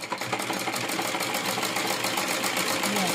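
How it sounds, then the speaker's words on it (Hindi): A sewing machine stitches lace onto cloth for a festival puja plate cover, giving a steady, fast mechanical whir that runs continuously and fairly close, with no speech over it. "यहाँ से थोड़ी सी आप सिलाई लगा लीजिए"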